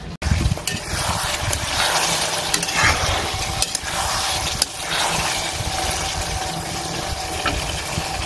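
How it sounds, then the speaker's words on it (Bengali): A mixer grinder churns tomato, chili, ginger and garlic into a paste, kicking in abruptly and running as a loud, steady whirring grind with slight fluctuations until the end, with no talk. "তো চলো এটাকে গ্রাইন্ড করে নিই।"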